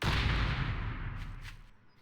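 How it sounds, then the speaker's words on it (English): A single mortar shell fires in the video game Night of the Dead, a heavy low boom at the start that rolls off into a long fading rumble with no one talking. "So that's one shell of mortar."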